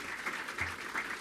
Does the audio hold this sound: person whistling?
no